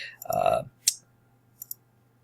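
Computer mouse clicks, a sharp close click followed by a quick double click, right after a brief burst of speech.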